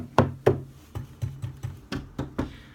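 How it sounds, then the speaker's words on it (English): Knuckles rap a tabletop in a loose series of about ten sharp, distinct knocks, the first two loudest and the rest slightly softer, close by with no voices. "I'm knocking on the table."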